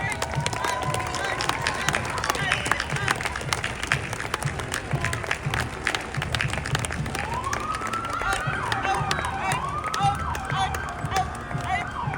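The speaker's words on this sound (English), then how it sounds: "May I have your applause, please, for the United States Air Force Marching Unit" Outdoor crowd applause along an Armed Forces Day parade route in Torrance, California, greeting the U.S. Air Force marching unit, a steady wash of clapping with cheers, whistles and crowd babble throughout.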